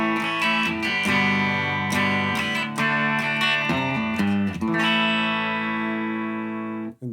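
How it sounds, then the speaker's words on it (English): Bridge-pickup electric guitar played through an amp with the mids cut all the way out, a hollowed, scooped tone strumming chords and single notes at steady loudness, ringing out before stopping abruptly. "Now I'm gonna take out the mids all the way"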